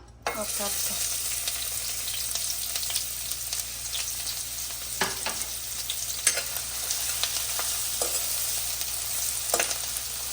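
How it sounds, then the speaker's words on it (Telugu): Onions frying in oil in a pan for mango chicken curry: a continuous bright sizzle with scattered crackles and a few stirring clicks, close and steady throughout. "పెనం పెట్టాను ఇప్పుడు ఆయిల్ వేస్తున్నాను ఉల్లిపాయ వేస్తాను"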